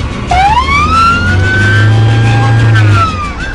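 A loud wailing ambulance siren rising and sweeping in pitch, very close, over a low engine rumble in traffic.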